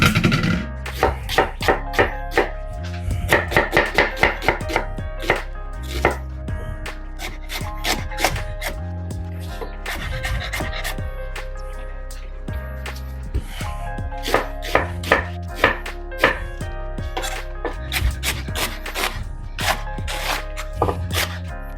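Collard greens are roughly chopped with a knife on a board, a long run of quick, irregular crisp chops in bursts, close and clear with brief pauses between clusters.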